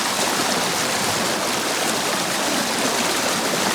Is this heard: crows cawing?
no